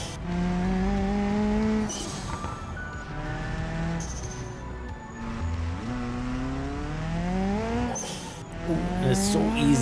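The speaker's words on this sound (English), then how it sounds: "take a listen to this engine and turbo" Engine and turbo of a Pigeon K-Performance car in BeamNG, heard from outside as a loud, steady revving drone whose pitch rises and falls with acceleration and shifts, with occasional bursts of tire squeal.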